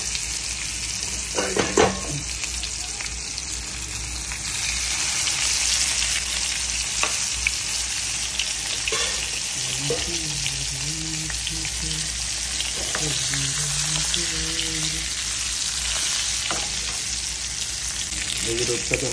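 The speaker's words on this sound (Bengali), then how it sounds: "এই যে রূপচাঁদা মাছটা একদম চমৎকার করে ভালো করে তেলে দিলাম।" Pomfret fish frying in hot oil in a wok makes a loud, dense, continuous sizzle up close, with occasional scraping of a spatula and a faint voice beneath.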